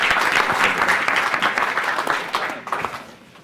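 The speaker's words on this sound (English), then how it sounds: "let's give them a round of applause." An audience gives a panel a round of applause, a dense, steady wash of clapping that holds loud through most of the moment before thinning and fading out near the end.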